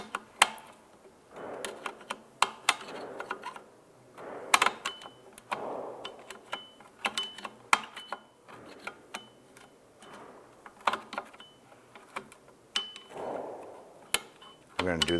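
Rear drum brake adjuster screw on a Ford Fiesta being turned with a pick, giving a series of faint, irregular metallic clicks and ticks close up in a quiet workshop.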